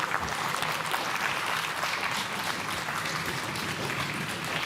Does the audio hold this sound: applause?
yes